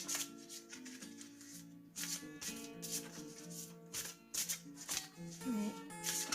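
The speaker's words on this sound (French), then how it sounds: "J'aime bien quand les cartes elles sautent." Tarot cards are shuffled by hand in repeated, crisp riffling bursts with soft slaps between them, close and fairly quiet, while a voice speaks softly underneath.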